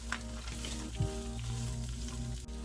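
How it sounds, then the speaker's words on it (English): Peppers frying in a pan, a steady close sizzle with a couple of light utensil taps and a faint background hum, no talking. "And we're going to fry these up for just a couple minutes until they get nice and soft."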